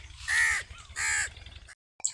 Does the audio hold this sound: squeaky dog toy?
no